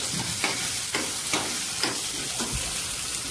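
Cumin, curry leaves and green chillies sizzle and crackle in hot oil for a peel chutney of bottle gourd, a close, steady frying hiss with soft rhythmic stirring scrapes and no voices.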